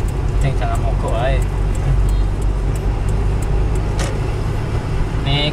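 Mitsubishi Kuda 1600 cc car driving on a road, steady loud engine and road rumble held near constant revs, with people talking inside the cabin over it.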